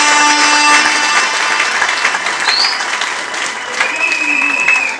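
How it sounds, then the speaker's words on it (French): Guests at a wedding applaud as the groom and the men of the family stand up, a steady, loud burst of clapping. Faint tones and murmuring run underneath. "With your applause."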